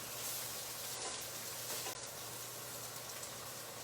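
Zucchini frying in oil in a pan gives a steady, close, continuous sizzle and hiss that stays even throughout with no voices.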